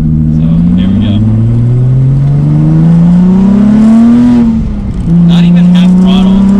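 A turbocharged Nissan 350Z accelerates under partial throttle, heard from inside the car. The engine drone is loud and climbs steadily in pitch, drops briefly at a shift, then resumes its rising drone.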